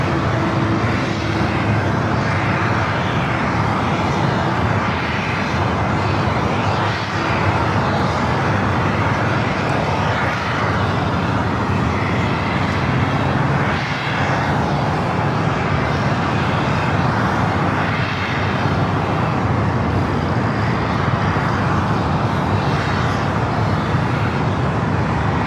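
Airliners taxiing and pushing back at Los Angeles LAX airport, among them an SAS Airbus A330-300, make a continuous, steady jet-engine roar that stays broad and unbroken throughout.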